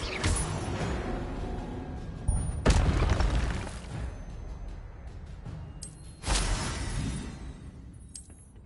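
Fiery spell casts in a Harry Potter game, each a sudden roaring whoosh-boom bursting out over a low mechanical background, three loud bursts spaced a few seconds apart.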